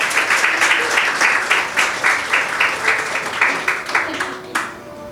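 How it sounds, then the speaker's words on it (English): An audience at an annual general meeting award presentation applauds steadily with dense, sustained clapping filling the room, with faint voices underneath. "Round of applause, please."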